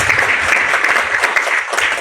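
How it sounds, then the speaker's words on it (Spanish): Audience applause at a book presentation, a steady wash of many hands clapping together for about two seconds, fairly loud and continuous with no talking over it. "Por favor, fuerte los aplausos para Laisa."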